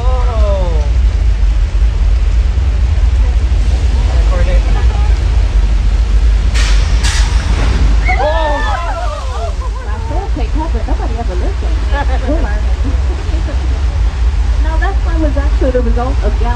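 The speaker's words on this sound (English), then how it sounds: "And yes, the rain is a sprinkler system." Simulated rainstorm from a sprinkler system on the flash-flood tram ride at Universal Studios Hollywood: a loud, continuous rain roar with low rumble, while people talk and shout over it.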